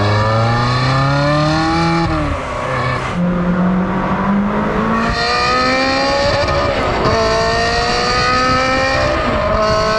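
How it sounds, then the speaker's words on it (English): A car exhaust blasting through a tunnel, the engine revving hard and climbing repeatedly toward the rev limiter, loud and close with echoing tunnel reverberation and no talking. "So now we're going to do a bit of tunnel blasting just to let you know that it really sounds pretty damn good"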